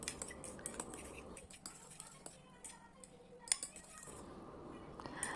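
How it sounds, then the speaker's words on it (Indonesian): Mayonnaise sauce with fried onion and squeezed lemon being stirred in a bowl, giving soft, faint clinks and scrapes of a utensil against the bowl at close range, with no voice over them. "Kemudian aduk-aduk sampai merata ya."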